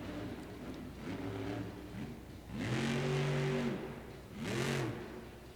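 The Megalodon monster truck's big engine revs at a Monster Jam arena show in Denver. It rises and falls in pitch in several distinct surges, the strongest in the middle, heard at a distance over crowd noise.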